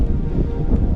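Cold, gusty wind buffets the microphone on a misty, fog-covered hilltop near trees during light drizzle, a loud low rumbling roar with no voices.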